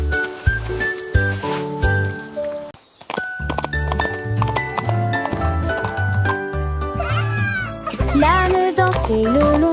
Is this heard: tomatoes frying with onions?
no